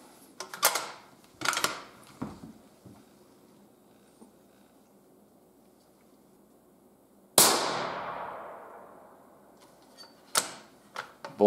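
A precision rifle fires 140-grain handloads, one loud close shot with a long ringing decay, surrounded by sharp metallic clacks of the bolt being worked before and after.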